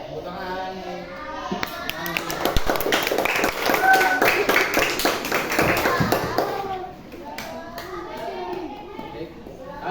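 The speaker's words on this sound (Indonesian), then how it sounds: "Tepuk tangan." A class of children claps their hands together in a classroom, a dense burst of applause mixed with chatter and voices that fades after several seconds.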